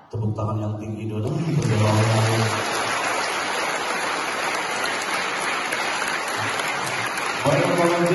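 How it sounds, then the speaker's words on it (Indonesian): A large crowd of students at an Islamic boarding school event in Banyuasin, South Sumatra, breaks into loud, dense applause that roars steadily for several seconds after a brief voice at the start. "Tepuk tangan yang tinggi dulu."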